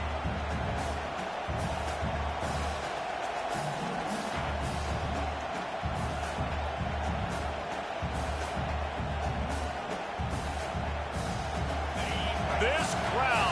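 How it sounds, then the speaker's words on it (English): A large football stadium crowd roars steadily at full volume through a game broadcast, with a low rumbling undertone, occasional thuds and a broadcaster's voice talking over it. "This crowd, full throat, spreading the eardrums and letting them know it's going to be a long day"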